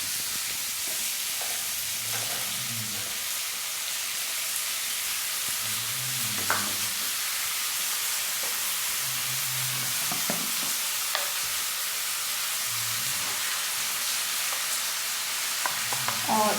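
Green peas cook in a pan of oil for aloo matar pulao, a steady soft hiss of frying with occasional scraping stirs and light clinks across the whole stretch.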